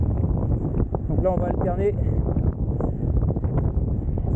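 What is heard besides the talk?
strong wind while cycling on a gravel bike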